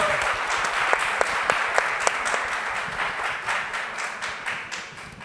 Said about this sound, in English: We should give him a huge round of applause for that.